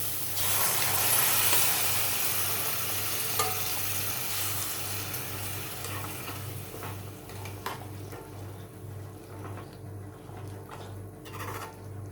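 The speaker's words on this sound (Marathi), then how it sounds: "जे बॉईल करून घेतलेले जे चणे आहेत ना, ते चणे यामध्ये सगळे घालून घेणार आहे" Steady sizzling and frying as boiled chickpeas are added to masala, with occasional scraping stirs of a spoon in a pan, loud at first then settling to a quieter crackle.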